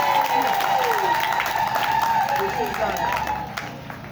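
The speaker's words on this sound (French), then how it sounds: "Veuillez s'il vous plaît applaudir pour ce groupe." An audience at a Mother's Day celebration in Bitam claps in steady, dense applause with crowd murmur, sustained throughout and tapering slightly at the end.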